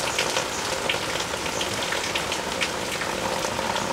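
Thin slices of tempeh wrapped in teak leaves fry steadily in hot oil for Kediri-style sambal tumpang, giving a dense, even crackling sizzle that runs without a break and with no voices over it.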